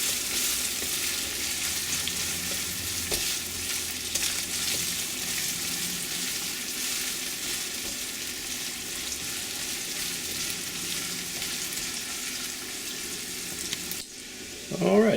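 Chopped onion, green pepper, garlic and ginger fry in a pan, making a steady, even sizzle that runs continuously at close range. A brief rustle comes near the end.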